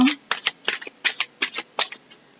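Tarot cards shuffled by hand in about nine quick riffling bursts, each a short papery flutter with brief pauses between, close and fairly loud with no talking.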